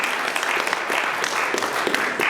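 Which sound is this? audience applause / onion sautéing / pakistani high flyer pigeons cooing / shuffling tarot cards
audience applause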